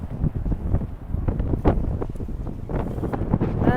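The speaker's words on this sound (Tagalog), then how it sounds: "So windy." Strong outdoor wind buffets the microphone in loud, rumbling gusts that swell and fade continuously, with a brief excited voice shouting over it.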